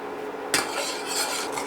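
A spoon scrapes and stirs in a pot as starch, pectin and sugar are poured into cherry puree, a soft continuous rasping swirl that starts suddenly and carries on close by.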